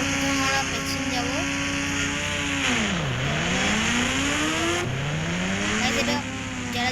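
Racing engines roar loud and close, revving up and down with pitch sweeping low then climbing high again as the vehicles accelerate hard.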